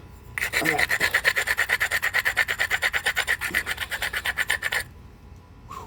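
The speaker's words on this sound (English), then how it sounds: "Continuous grind. Give it a little grind underneath." A flint biface edge is ground with an abrader to prepare a platform, making about thirty fast, even rasping strokes, close and loud, that stop abruptly before a quiet end.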